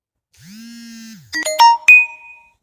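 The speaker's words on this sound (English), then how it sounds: "I just got some kind of a notification" A notification chime sounds alone and close: a low tone rises and holds for about a second, then a quick run of bright bell-like tones rings out and fades.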